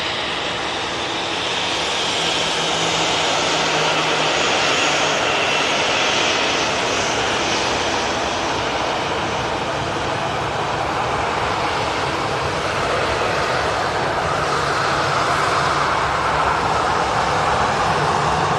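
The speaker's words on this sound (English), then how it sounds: "Portugal, A320 on the taxi over" An Airbus A320 taxis at Manchester Airport, its jet engines giving a steady, loud, broadband roar that holds unbroken throughout, with no voices.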